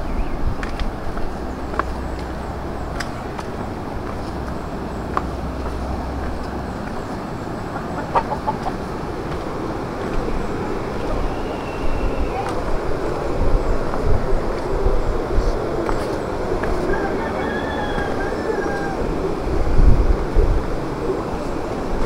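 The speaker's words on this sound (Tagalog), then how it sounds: "Laki ng ilog." Steady broadband rushing of a large river fills the scene, loud and constant, with faint bird calls and clucks in the background.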